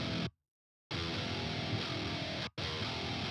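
Heavily distorted metal rhythm guitar through an amp simulator and a speaker-cabinet simulator, dense buzzing chords played alone and loud, broken by a short silent break and a quick cut.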